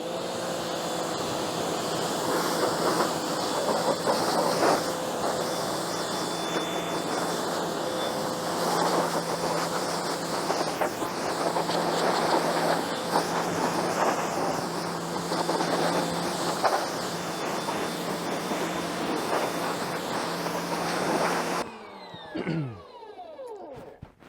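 Karcher electric power washer running at 1800 PSI, a steady loud broadband hiss and whine of the pressurized spray held for about twenty seconds, then cutting off abruptly into a brief, quieter tail.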